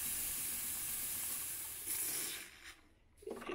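A machine releases steam in a loud, steady hiss that gradually thins and fades out, followed by a few faint clicks and a brief low thump near the end.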